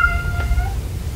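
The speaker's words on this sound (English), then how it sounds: "I don't know who's meowing." A cat meows indoors, wanting into a bedroom: a single drawn-out, tonal meow that rises slightly before fading, fairly close and clear over a low room hum, with no talking.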